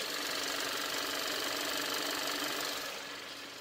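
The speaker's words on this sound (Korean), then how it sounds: "엔진 소음 들려드리면은" A Hyundai Avante AD 1.6 GDi engine running steadily, a dense continuous mechanical whir and ticking that stays even and close, easing slightly at the end.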